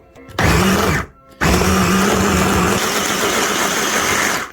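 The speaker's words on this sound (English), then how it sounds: "I'm just going to take this 3 little beef steaks and take them for the ride in this food processor." A food processor grinding three small beef steaks, its motor roaring loudly and close in two bursts: a short run, a brief pause, then a longer steady grind that cuts off sharply.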